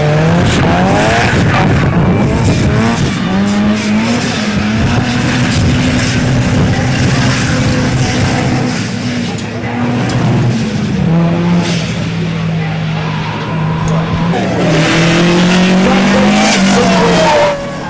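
A 1989 Nissan S13 race car drifts around a track, its engine loud and revving hard throughout while the tires squeal and skid, the pitch rising and falling as it throws through corners.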